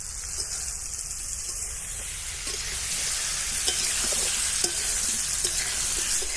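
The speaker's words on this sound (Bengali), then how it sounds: "আমি সব পেঁপেগুলো কড়াইয়ের মধ্যে ভাজতে দিয়ে দিয়েছি" Papaya pieces fry in hot oil with a continuous broadband hiss and faint crackles, growing slightly louder partway through.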